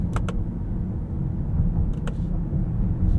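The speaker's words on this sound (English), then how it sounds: "There's a menacing rumble from this 4-liter Biturbo V8." Low, steady exhaust rumble from the 4-liter biturbo V8 of a 2024 Mercedes-AMG GLE 63 S Coupe, heard close from inside the cabin while the engine warms up, with a few faint clicks.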